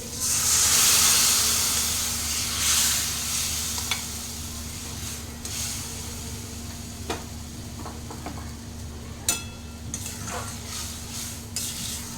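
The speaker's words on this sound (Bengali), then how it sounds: "এই ডালটা, যেটা সেদ্ধ করা ছিল নুন হলুদ দিয়ে তড়কার ডাল, সেটা আমি ঢেলে দিলাম" Boiled dal, cooked with salt and turmeric, pours into a hot tadka with a loud burst of sizzle and steam that eases into a continuous frying hiss, marked by scattered spoon taps and clinks.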